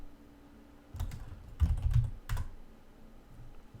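Keys clatter on a computer keyboard in a few short bursts of typing, close and fairly quiet, separated by pauses.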